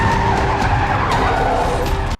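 A car spins out after being rammed by another vehicle in a Walking Dead car chase scene, with loud continuous tire skidding and engine roar that cuts off abruptly at the end.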